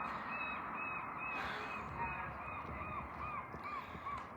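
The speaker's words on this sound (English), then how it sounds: "I don't know what's going on with the seagulls." Seagulls calling repeatedly in the distance over a steady, rumbling outdoor background in Bellingham, Washington. The cries are short, thin and rhythmic, partly masked by the broad noise, and no one speaks.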